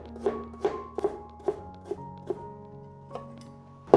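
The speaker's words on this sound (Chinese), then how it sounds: "换个方向，把红萝卜切成碎碎的小丁" A knife dicing carrot into small cubes on a cutting board gives a steady series of light, evenly spaced taps over a faint humming tonal background.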